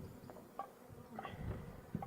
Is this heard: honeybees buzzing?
yes